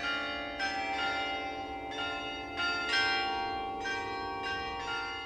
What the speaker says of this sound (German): Die Glocken der Kirche St. Peter auf dem Prager Berg Vyšehrad spielen sie zu jeder vollen Stunde.